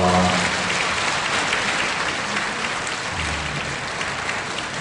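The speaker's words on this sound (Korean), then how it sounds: "우리 박수로 환영합니다." A church congregation gives warm applause welcoming a group of pilgrims, a loud, steady, close wash of many hands clapping throughout, with faint low voices underneath.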